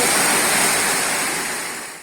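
Rainwater rushing down a town street during heavy rain, a loud steady broadband roar of flowing water, close and continuous, easing slightly at the end.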